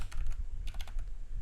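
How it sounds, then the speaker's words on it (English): Several close, crisp keystrokes on a computer keyboard, including an Enter key press, come as a short uneven cluster of clicks over a low room hum, with no voices. "just click enter on your keyboard once"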